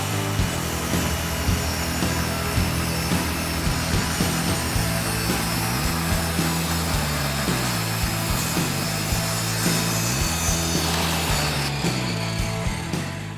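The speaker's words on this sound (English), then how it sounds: "To rip it in half, I'm going to use my table saw." A table saw rips a wooden board for a custom desktop lengthwise, its loud, steady whine and grinding cut running continuously up close, with slight pitch dips as the blade loads, no speech.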